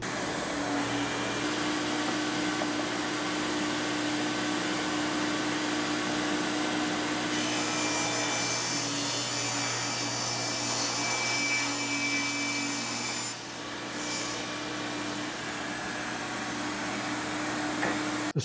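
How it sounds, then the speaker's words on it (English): A workshop dust collector runs continuously in a steady, loud whooshing roar with a low motor hum, the airflow shifting in tone partway through as it keeps going without talk. "Turn on my dust collection."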